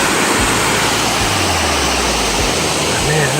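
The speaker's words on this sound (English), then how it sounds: "I love the sound of the water" Water pours steadily from a fire hydrant beside a street in Japan, a loud, continuous rushing splash that fills the whole moment without a break.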